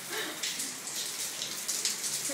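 Rainwater drips and trickles from a leaking roof inside a bathroom, a soft, continuous splashing patter with occasional brighter drops, fairly quiet and without voices.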